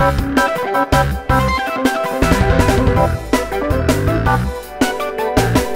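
Layered synthetic instruments built from a sampled vocal, with pads and chopped tonal notes over a steady drum beat, loud and continuous, no speech.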